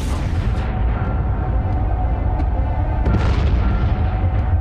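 A heavy, rumbling boom meant as a magnetar explosion, with deep sustained low rumble and a fresh burst of crackle about three seconds in.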